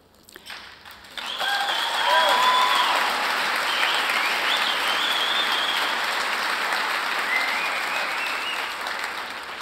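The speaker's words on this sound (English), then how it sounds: "you all sit there and you all clap" A large conference audience in Las Vegas breaks into sustained applause, a dense wash of clapping that swells quickly and holds steady, loud and close, with faint cheering threaded through.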